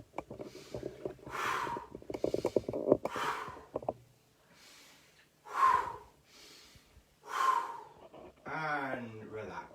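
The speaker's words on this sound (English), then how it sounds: "So just nice deep breaths in." Deep breathing during a chakra exercise, with a run of quick audible breaths followed by several slower, separate breaths in and out, close to the microphone, ending in a brief stretch of voice.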